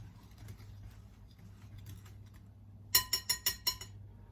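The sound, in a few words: whisk mixing substitute sugar in bowl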